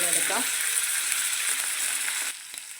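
Potato pieces frying in a pan for a Kerala-style potato mezhukkupuratti, a steady close sizzle with scraping stir strokes and soft clicks, dropping quieter near the end.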